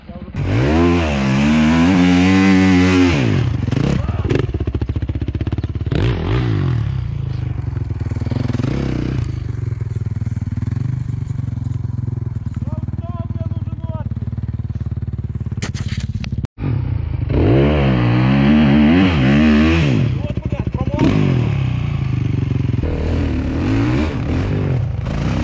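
Motocross bikes such as a KTM 300 two-stroke and Honda and Suzuki 450s revving hard, rising engine whines in bursts at the start and again near the end, with quieter idling and people talking between.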